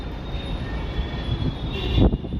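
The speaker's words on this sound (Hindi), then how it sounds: "मेट्रो आ गई सबसे लास्ट में" A metro train pulls into a station in Gurugram, its rolling rumble and rail noise building louder toward the end, with some wind buffeting the microphone.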